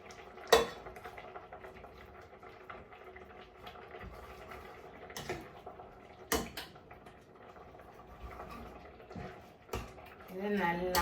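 Boiled raw mango mashed in a pot with a metal utensil, giving irregular clanks and sharp knocks against the pot over a low, busy background with faint voices.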